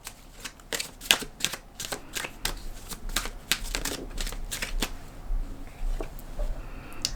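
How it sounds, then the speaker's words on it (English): Tarot cards are handled and shuffled up close, giving a series of crisp, irregular riffling snaps and flicks that run on for several seconds without talk. "I'm gonna pull the cards out."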